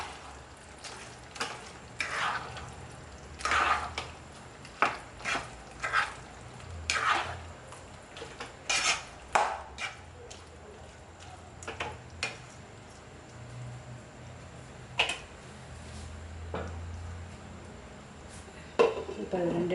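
Paneer stirred in a pan for chilli paneer: a spoon scrapes and clinks against the pan in irregular strokes over a faint sizzle, fairly quiet and close, with occasional sharper knocks.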